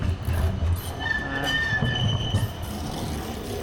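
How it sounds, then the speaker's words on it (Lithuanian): A tram rolls along a street in central Amsterdam, its wheels rumbling low and squealing in a thin, high tone as it passes close by, steady for a few seconds with no talking. "Čia faina gatvė tramvajų pravažiuoti."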